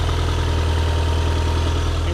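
A 90s Japanese turbo car idles with a suspected exhaust leak near the turbo manifold, a steady low rumble with a fast, even pulsing flutter running underneath, close and constant.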